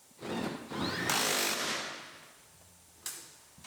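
A power tool drives bolts into a Silverado cab during reinstallation: a loud, close whirring burst of about two seconds, then a short second burst after a pause.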